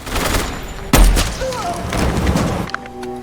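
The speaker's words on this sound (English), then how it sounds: "that's obviously not the report or the sound that you would hear coming out of that rifle" A movie gunshot effect for an M40A1 sniper rifle: one sharp, loud report with a short rumbling tail, set among quieter film ambience and background voices.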